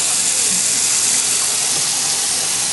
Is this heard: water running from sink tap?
yes